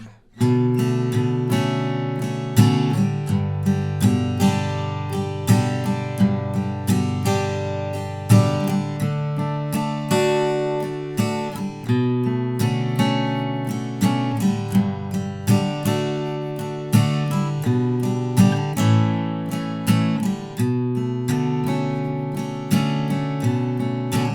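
An acoustic guitar strums the verse chord progression of a song in a steady, even rhythm, loud and close, played alone without talk.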